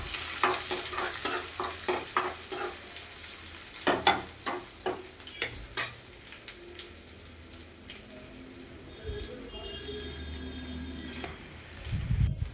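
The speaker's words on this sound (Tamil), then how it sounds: "10 சின்ன வெங்காயம் கட் பண்ணி வச்சதை சேர்த்து நல்லா வதக்கி எடுத்துக்கலாம்." Small shallots sautéing with mustard seeds and curry leaves for a village-style broad bean curry, with sharp spoon-stirring scrapes in the first few seconds over a steady sizzle, then a softer continuous frying hiss.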